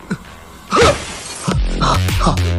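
Glass shatters loudly as someone breaks out through a window, a brief crash followed by scattered falling shards among other loud thuds and voices.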